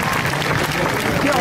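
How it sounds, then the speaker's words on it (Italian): Spectators applaud the winner of an F4 world championship powerboat race in Brindisi, a short burst of crowd clapping mixed with a loud announcer talking over it. "un bel applauso per il pilota di Chioggia"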